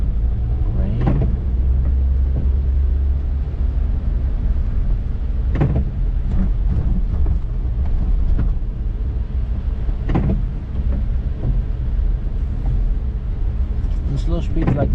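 A Suzuki Jimny 1.3 drives through light rain, with a steady low road-and-engine rumble inside the cabin and scattered soft clicks and thumps throughout.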